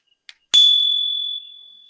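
A small tap, then a single bright bell strike rings out near and loud, its metallic tone slowly decaying.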